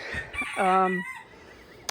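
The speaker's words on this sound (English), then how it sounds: "you hear the roosters in the background" A Polish chicken rooster crows once, a short strained cock-a-doodle call, fairly close, followed by quiet with a faint click at the end.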